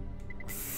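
A first aid spray used in the video game Resident Evil 3 on PS3 lets out a short hissing burst of aerosol, a brief bright spray sound following a few small chime-like tones.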